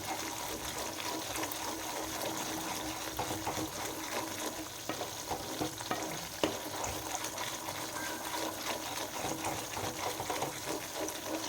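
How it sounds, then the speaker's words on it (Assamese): Butter cream boils and bubbles in a pan as it is stirred nonstop to make ghee, a steady close fizzing sizzle with faint scraping throughout. "এইখিনিত মানে বহুত বেছিকৈ ফুটে এই সৰখিনি, আৰু এনেকৈ নন ষ্টপ লৰাই থাকিব লাগিব কিন্তু এইখিনি।"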